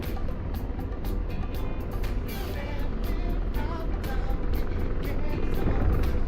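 An AH-64 helicopter's rotor beats in a rapid, steady thump over engine rumble as it crashes in the DCS flight simulator game, loud and continuous, with faint speech underneath.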